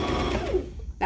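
A sewing machine stitching a kids' bunny sewing kit project: a close, quick mechanical whir of the needle running, then a brief pause and a short burst as it starts again.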